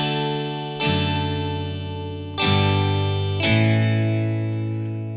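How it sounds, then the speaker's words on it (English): Four sustained chords ring out one after another on an electric guitar with effects, each strummed chord swelling and lingering before the next. They are the verse chords, played in GarageBand. "we're going to start by playing the verse, and it plays four chords"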